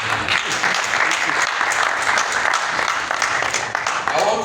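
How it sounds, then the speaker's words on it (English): Sustained, loud crowd applause fills a festival award ceremony for the New Yam Festival, honoring a guest's wife, steady clapping throughout with no break. "another special round of applause from his wife that accompanied him"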